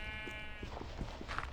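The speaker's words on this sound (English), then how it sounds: "Move, sheep." Sheep in a video game give one drawn-out bleat, followed by a string of faint clicking in-game sounds.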